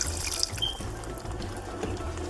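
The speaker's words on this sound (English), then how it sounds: "I'm going to add a little water because I still need it to cook a little more." Water poured from a tap or jug into a pan of simmering pepper steak gravy, a steady close splashing trickle that runs on for a couple of seconds with no voices over it.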